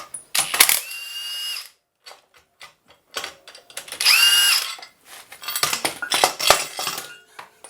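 Work on the crank pulley of a second-generation Dodge Neon engine, heard as close, bright metallic clinks, ratchet clicks and tool clatter in short irregular bursts separated by quiet gaps.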